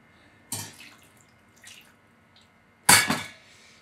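A Sage Oracle Touch coffee machine dispenses hot water in two short, splashing gushes with a faint trickle between them, close and fairly loud against a quiet background.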